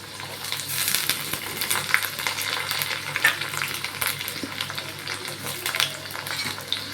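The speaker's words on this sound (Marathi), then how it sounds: "आता बटाटा चांगला तेलामध्ये परतून घेते मी" Finely chopped potato fries in hot oil with onion and garlic, giving a steady, close sizzle with occasional stirring scrapes throughout.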